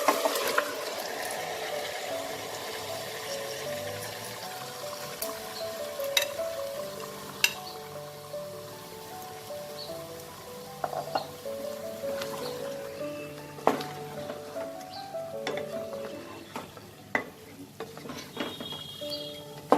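Marinated chicken hitting spiced oil in a pan, a moderate sizzle with scraping stirs and occasional clinks of utensil against the pot, soft and fairly close, with no talk.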